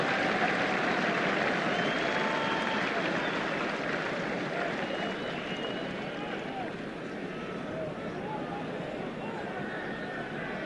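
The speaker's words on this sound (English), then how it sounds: "Canterbury favourite getting a sympathetic round of applause as he leaves the field." Rugby crowd at a 1978 All Blacks versus Wallabies Bledisloe Cup match applauding an injured player off the field: a broad, distant wash of clapping and crowd noise, steady throughout, with faint voices mixed in.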